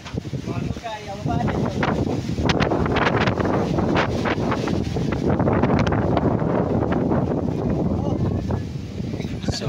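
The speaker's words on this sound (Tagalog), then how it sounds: "Sobrang lakas ng hangin." Very strong typhoon wind buffets the microphone in a continuous loud roar and rumble, with gusts swelling throughout and a person speaking faintly beneath it.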